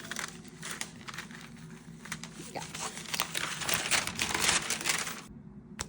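Tape peels off a T-shirt while a sewing pattern is being copied, producing a steady crackly rip and crinkle that lasts about five seconds before stopping abruptly, close by and fairly loud.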